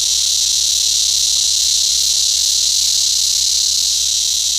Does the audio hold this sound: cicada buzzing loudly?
yes